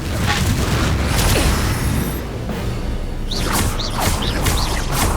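Repeated fiery blast spells from the Hogwarts Legacy game boom and whoosh under a dense bed of combat noise, with a sustained rumble and several short swishing bursts near the end.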